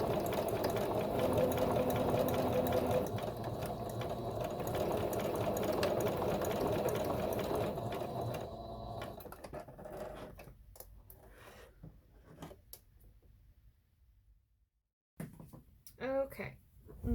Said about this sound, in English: And I like to switch this to a zigzag stitch when I do this.